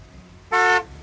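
A single short honk from the horn of a 1966 Pontiac GTO, a loud bright toot lasting about a quarter second close by, against quiet idle.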